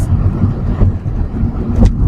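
A car passes close by on the road, a steady broadband engine and tire rush holding loud throughout with no talking.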